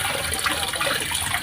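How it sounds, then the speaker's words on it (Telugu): Dahlia tubers being rinsed clean in water, a steady splashing and running-water wash that holds at an even level, close by and alone with no voices. "వాటర్లో శుభ్రం కడిగేయాలి."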